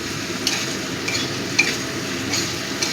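Spices being stirred and mixed in a pan for a fish curry made with mourola fish, a constant frying sizzle with soft spoon scrapes and a few light metallic clicks against the pan; no one speaks.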